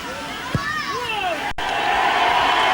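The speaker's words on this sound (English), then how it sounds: "You can hear by the cheer, don't need me to tell you, that's the first 2 points of the evening" A stadium crowd at a 1997 rugby league match between Leeds Rhinos and Adelaide Rams roars throughout, swelling louder partway through beneath a commentator's voice.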